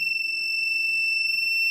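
An ESP32-based fire and heat detector's buzzer alarm, set off by body heat, sounds a steady, continuous high-pitched electronic tone that holds unbroken for the whole moment, fairly loud and close, with no talking.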